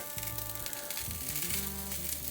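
A hot dog bun toasts on a hot surface, giving a brief, close, steady sizzle with a low hum underneath.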